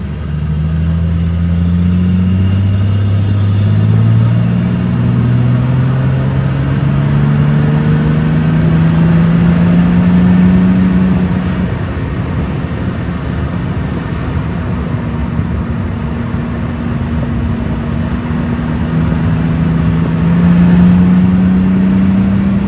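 Toyota Land Cruiser with an aftermarket exhaust cruising on the road and climbing a hill, its engine humming in a steady low drone that rises and falls gently with throttle for the whole stretch, loud and close with no talk.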